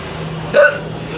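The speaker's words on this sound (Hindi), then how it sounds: "ये हिचकी तो बंद होने का नाम ही नहीं ले।" A single sharp hiccup rises out of a quiet room, brief and fairly close, with a soft murmur of background noise around it.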